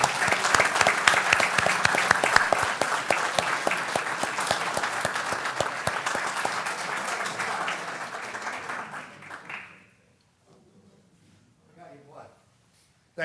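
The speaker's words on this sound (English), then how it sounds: "Let's give a big round of applause for all three." An audience at a Saddle Brook township council meeting breaks into steady, dense applause that carries for about ten seconds, then stops abruptly, leaving near silence with a few faint sounds.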